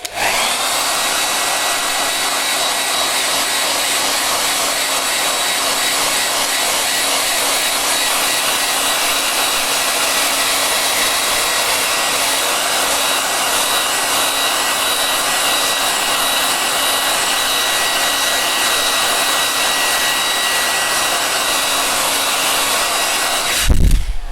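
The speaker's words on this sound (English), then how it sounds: "I'm gonna blast this with my blow dryer very quickly." A blow dryer blasts continuously at close range, drying a colouring page, with a loud steady whooshing roar and a fixed motor whine that lasts the whole time before cutting off abruptly at the end.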